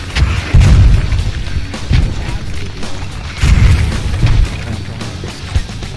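Mortar shells explode in the military game Squad, several deep booming impacts at irregular intervals, loud and close, with voices talking over the bombardment.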